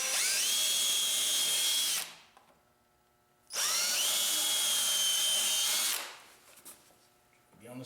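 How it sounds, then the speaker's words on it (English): Two loud, sustained bursts of a power drill boring a hole, each revving up quickly and cutting off, separated by a short quiet gap. "So we're going to drill our hole"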